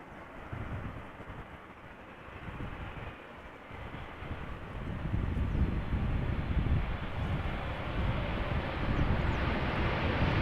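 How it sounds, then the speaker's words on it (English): A KLM Boeing 787 Dreamliner arriving from New York at Amsterdam Schiphol in crosswind conditions brings a rising jet rumble, faint and distant at first, then swelling louder and closer midway and holding a steady roar. "first this Dreamliner arriving from New York from KLM."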